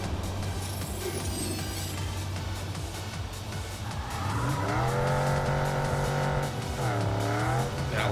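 A Type 22 car in the game Cyberpunk revs up and accelerates, then drifts with a loud engine whine that rises and falls as tires squeal through the slide.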